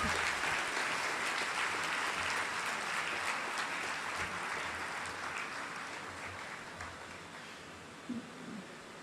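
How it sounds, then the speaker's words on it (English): Applause fills a convocation hall, a broad steady clapping that gradually fades and grows quieter, with a few soft rustles near the end. "give them another round of applause"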